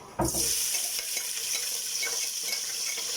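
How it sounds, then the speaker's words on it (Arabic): Grated onion hits hot oil in a pan for an Egyptian spaghetti sauce with minced meat, giving a sudden loud sizzle that settles into a steady, close, crackling hiss throughout with no talking. "بسخن زيت اهو، وبشر بصل هنزل بيه على الزيت"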